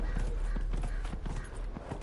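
Horse hooves clip-clopping as a mount is ridden in a video game, a steady quick patter of hoofbeats close by over a low rumbling background.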